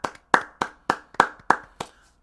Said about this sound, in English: Let's clap it up for her.